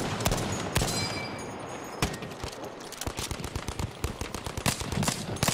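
Dense rapid gunfire in a Battlefield V match, with M1 Garand rifle shots mixed into bursts of automatic fire. The reports are loud and overlapping, with sharp cracks that come faster and harder toward the end.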